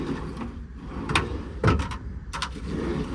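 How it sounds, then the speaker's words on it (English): Several metal drawers of a 2013 Freightliner M2 mechanics truck's toolbox slide open and shut in quick succession, with short rolling scrapes and clunks close by. "All these drawers slide as they should."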